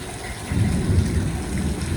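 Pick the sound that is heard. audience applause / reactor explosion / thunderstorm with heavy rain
thunderstorm with heavy rain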